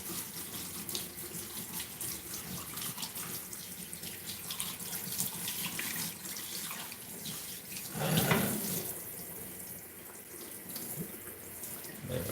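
A faucet runs steadily throughout while a dog is bathed during grooming, with water splashing and shifting against fur and a brief louder gush near the end, close and continuous with no talking.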